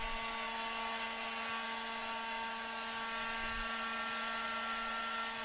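A milling bit grinds steadily through a sheet of unknown aluminum, a continuous high whine with sustained tones, loud and close throughout with no talk.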